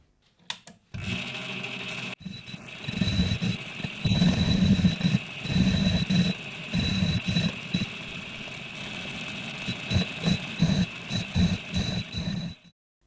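A metal lathe cutting 45-degree chamfers on a 7 1/4-inch gauge locomotive wheel, a steady mechanical whir with a pulsing, chattering rhythm, close and continuous for most of the stretch before stopping.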